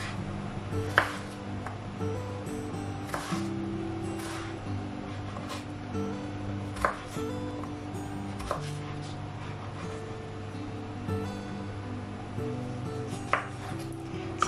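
A knife cutting potatoes into thick fries on a board gives sharp, separate chops every couple of seconds against a humming room background, with no voices.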